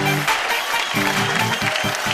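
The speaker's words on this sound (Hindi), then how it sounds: "जोरदार ताली, वेल प्लेड।" A studio audience on a family game show breaks into loud applause, mixed with tonal voices and music-like harmonics over a short burst.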